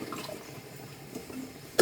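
Water is poured into a bowl in a home kitchen while a chicken dish is being prepared, a soft, brief splashing fill with a sharper splash right at the end.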